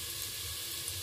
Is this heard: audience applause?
no